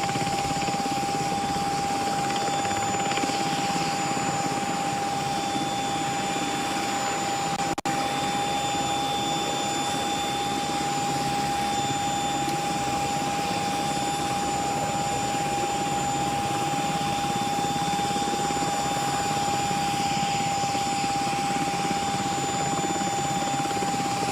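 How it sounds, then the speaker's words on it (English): Black Hawk helicopter waiting to fly a governor's aerial tour over flood damage in Texas: a steady, loud rotor and turbine drone with a persistent high whine, continuous and unchanging throughout with no talk. "awaiting the Black Hawk helicopter carrying Texas Governor Greg Abbott to begin its aerial tour over the flood damage"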